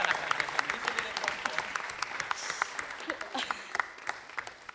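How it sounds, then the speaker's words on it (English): Applause at a WRC Rally Australia 2018 pre-event press conference: a room of people clapping in a brisk, uneven patter that thins toward the end, with voices murmuring underneath. "Ladies and gentlemen, a round of applause for Miss Gallagher."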